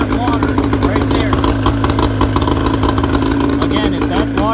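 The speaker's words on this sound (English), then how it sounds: "We're gonna let this run, get the engine warmed up." An outboard boat engine warming up in neutral, a loud close steady running drone with a throbbing mechanical rhythm throughout.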